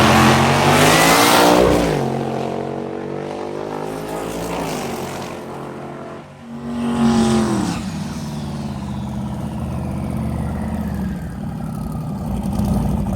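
A drag race car at a drag-and-drive event makes a loud pass down the strip, its engine roaring and rising in pitch through gear changes before fading into the distance, with brief crowd or commentary speech underneath.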